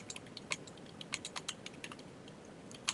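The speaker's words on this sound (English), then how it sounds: "give me a second here while I want my typing to go for more than one line" Rapid typing on a computer keyboard while formatting a document in Word, a run of crisp, close, irregular key clicks with occasional louder strikes, no voices.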